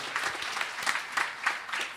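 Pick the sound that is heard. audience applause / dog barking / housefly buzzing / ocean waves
audience applause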